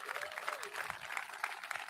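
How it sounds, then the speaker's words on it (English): Brief burst of audience clapping at a San Francisco State of the City address, a dense patter of hands filling the hall under a faint voice. "Yes, you can clap"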